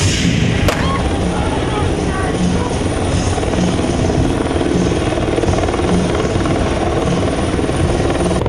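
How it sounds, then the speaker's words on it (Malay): A Bell LongRanger police helicopter from the Royal Malaysia Police air unit flies an acrobatic display, its loud rotor chop and turbine roar continuous and close, with a voice talking over it. "aksi akrobatik unit udara PDRM dengan menggunakan helikopter Bell Long Ranger"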